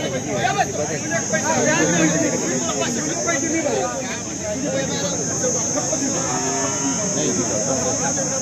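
A pure HF cow lowing at a busy cattle market, with repeated moos rising over the crowd's chatter and the general din of people talking nearby.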